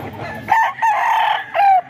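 A fighting rooster kept for the cockpit crows loud and close, a strained, drawn-out call broken into two phrases, with a lower clucking bird sound just before it.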